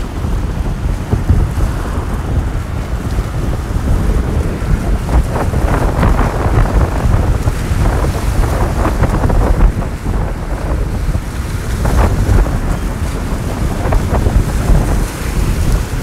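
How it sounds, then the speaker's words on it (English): Strong outdoor wind buffeting the microphone, a steady loud roar and rumble that continues without break. "Just this dang wind."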